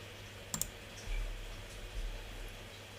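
A computer mouse clicking on a website link: two quick, sharp clicks close by, followed by faint low thumps against quiet room noise, with no one talking.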